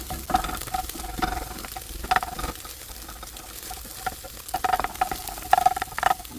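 A spatula scrapes and pokes at scrambled egg in a sizzling frying pan, breaking it into small pieces, with soft intermittent clinks and a quiet steady sizzle underneath.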